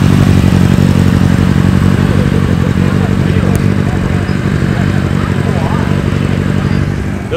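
A Kawasaki Ninja motorcycle runs at a car meet, its engine a loud, steady rumble and whine that holds throughout amid crowd noise and nearby talk.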